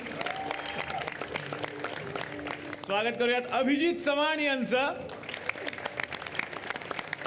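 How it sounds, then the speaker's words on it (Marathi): An audience applauds at the taping of a Marathi TV comedy show, with a dense, continuous wash of clapping running under a host's welcoming announcement and a brief burst of musical tones. "जोरदार टाळ्या त्यांच्यासाठी"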